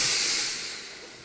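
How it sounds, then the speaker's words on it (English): A steam iron blasts a loud, close hiss of steam into trousers while they are pressed during alteration and hemming, and the hiss fades slightly as it goes on. "Let the steam do the work."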